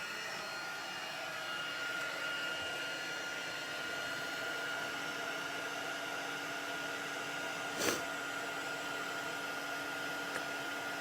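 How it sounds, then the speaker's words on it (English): Embossing heat tool blowing continuously, a steady, fairly loud whooshing hum like a hair dryer that holds constant for the whole stretch, with one brief click near the end and no talk. "running your heat tool, because that does get very, very hot"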